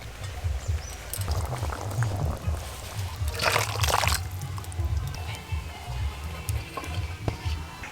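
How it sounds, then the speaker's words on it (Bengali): Cooked silver fish curry in spicy oil with potatoes is poured out of the pan, giving a soft continuous slosh and wet trickle, close and moderately loud, with a brief busier scraping burst midway. "এবার আমি ঢেলে নেব"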